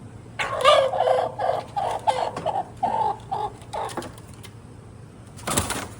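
A hen clucks repeatedly in short, uneven bursts, fairly close, with a brief rustle near the end and no talking.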